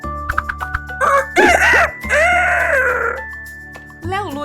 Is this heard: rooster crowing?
yes